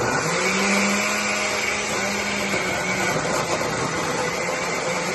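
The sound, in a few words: blender running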